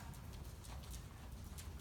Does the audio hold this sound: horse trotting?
yes